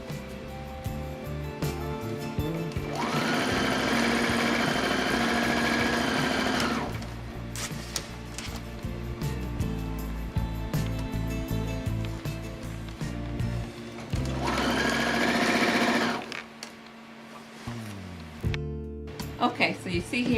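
A sewing machine stitches new seams along the body of a shirt being taken in, with two long loud steady runs of rapid stitching separated by quieter handling, and someone talks over parts of it.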